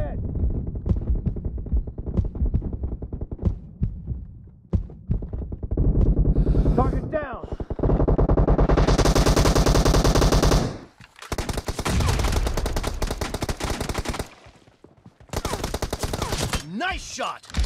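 Gunfire in the mobile battle royale BGMI: repeated bursts of automatic fire and loud sustained volleys with brief gaps between them, some short sharp single shots early on, with game sounds mixed in.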